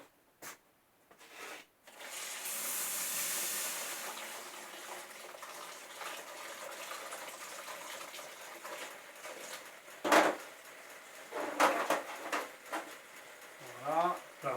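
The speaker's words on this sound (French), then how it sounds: "Donc là je vais la tremper dans l'eau hein, parce que celle-là j'ai pas envie de me brûler les doigts avec ça." A red-hot steel tap heated past 800 degrees is plunged into water, giving a sustained soft hiss and bubbling near the microphone, followed by splashes and light clinks as a hot washer follows, with a voice talking quietly.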